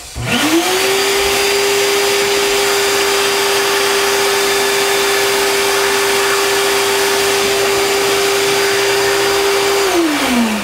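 A powered air blower whines steadily and loud as it clears dust from carved inset wooden letters, spinning up at the start, holding one even tone for about nine seconds, then winding down.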